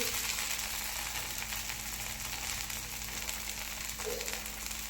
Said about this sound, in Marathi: आता हे आपल्याला एक ते दोन मिनटे छान असं भाजून घ्यायचं आहे